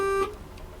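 A horn on an Irizar i8 bus in Euro Truck Simulator 2 sounds as one loud, steady electronic tone that cuts off abruptly, leaving only faint background hum.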